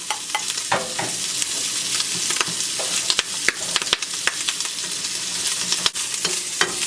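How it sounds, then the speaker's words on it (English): Pasta sauce heats and sizzles in a pan, with a steady broadband hiss and scattered stirring clicks and scrapes running throughout, close and fairly loud with no voices. "I just want to heat up the sauce."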